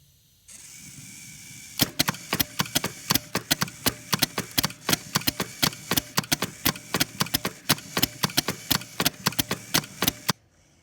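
A servo motor driving the interior skeleton of an animatronic bear starts with a low hum, then clicks and ratchets rapidly and unevenly for about eight seconds, close and fairly clear, before stopping abruptly.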